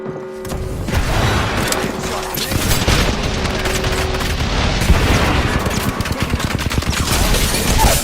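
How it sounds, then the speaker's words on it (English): Video game combat erupts in dense, sustained rapid gunfire with heavy booming impacts mixed in, loud and continuous from start to finish. "Open fire. Whoa, whoa, grenade."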